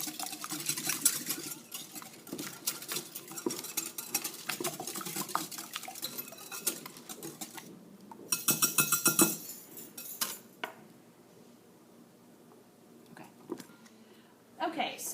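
A whisk or utensil clinks and scrapes against a bowl while beating an egg mixture with cinnamon for French toast, rapid irregular stirring close by with a brief burst of faster clatter and a quieter stretch near the end.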